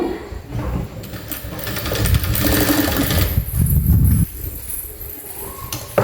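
A sewing machine stitches folded fabric petals for a rose flower on a half-shoulder blouse, its steady mechanical whirr running close and continuous for several seconds before a brief pause and a restart.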